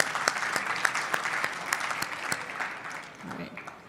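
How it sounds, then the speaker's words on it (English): Audience applause at a live event on Connecticut's sports and entertainment future, steady clapping with crisp nearby claps early on that gradually thins and fades, a voice surfacing near the end. "So, a round of applause, please."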